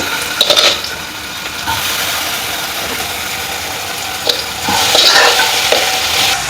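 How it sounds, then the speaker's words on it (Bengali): Soya stuffing tossed and fried in hot oil over high flame, a loud close sizzle with a rough, hissing texture, punctuated by scraping strokes and knocks of a spatula against the pan, swelling louder toward the end. "স্টাফিংটা দিয়ে আমরা একদম হাই ফ্লেমে একটু নাড়াচাড়া করে ভেজে নেব"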